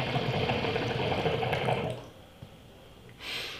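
Water bubbles through a CRT ECO Classic hookah fitted with a diffuser, a dense steady fizzing hiss for about two seconds that fades to a quiet gurgle, followed by a brief soft puff.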